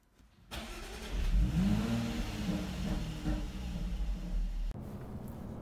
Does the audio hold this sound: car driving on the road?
yes